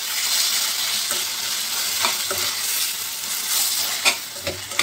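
Tomatoes frying in a pan for a bun chicken sandwich filling, with a loud, steady sizzle and intermittent stirring scrapes and taps close by.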